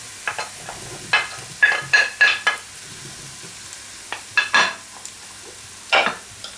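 Peppers added to half-cooked onion and garlic in a frying pan, a soft background sizzle broken by several close bursts of stirring and scraping in quick clusters.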